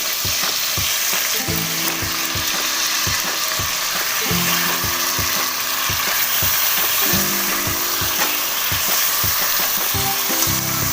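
Marinated chicken fries with tomato in a pan, making a constant loud sizzle. Steady stirring knocks and scrapes repeat in a loose rhythm, with short tonal clinks from the utensils.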